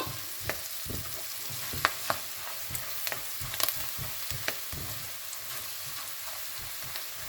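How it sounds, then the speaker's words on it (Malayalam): Garam masala being stirred into a sizzling mixture in a pan for a Kerala-style ularthu: steady close frying hiss with repeated spoon scrapes and clinks, no talking. "ഞാനൊരു കുറച്ച് ഗരം മസാല നമുക്കിത് നല്ലപോലെ ഒന്ന് മിക്സ് ചെയ്ത് കൊടുക്കാം"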